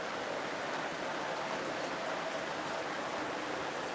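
Soft, continuous afternoon rain hiss, fairly faint and even throughout, with no talking.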